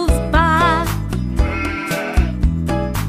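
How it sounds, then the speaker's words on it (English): Sheep bleating in a children's farm-animal song, a few wavering baa calls over steady, bright backing music. "The sheep goes baa."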